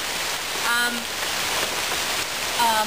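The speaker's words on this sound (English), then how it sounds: "it starts with a very rainy weather" Steady rain hiss from the opening of the game Mountain Crime Requital, a broad wet wash running the whole time with a couple of brief tonal sounds layered over it.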